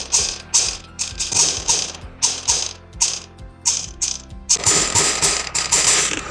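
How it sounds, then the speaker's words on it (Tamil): A sewing machine runs in repeated short stitching bursts with a mechanical clatter, sewing along canvas at the back neck of a blouse; the rhythmic runs pause briefly between passes, then continue steadily near and clear. "இப்போ இந்த கேன்வாஸை ஒட்டி தையல் போட்டுகிட்டே வரணும்."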